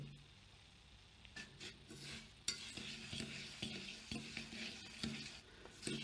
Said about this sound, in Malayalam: ഇതിലേക്ക് ഇനി നമുക്ക് ഷുഗർ ആഡ് ചെയ്യാം. എന്നിട്ട് മിക്സ് ചെയ്ത്